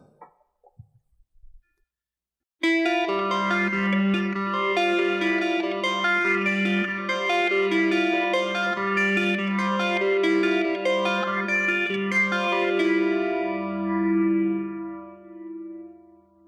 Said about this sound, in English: phaser and your rotary vibe are in there, delay again on 16th notes.